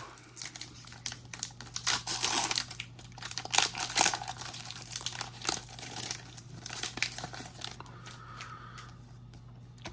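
A Pokémon Scarlet & Violet Obsidian Flames booster pack wrapper is torn open by hand, close crinkling and ripping in irregular bursts over a faint steady hum, with no voices.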